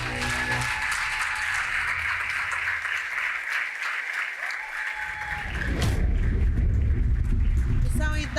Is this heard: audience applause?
yes